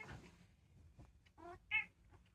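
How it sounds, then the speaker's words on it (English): A pet house cat meows twice in short, clear calls about a beat apart, fairly close but soft, after some faint indoor shuffling. "And my real cat is very much talking to me."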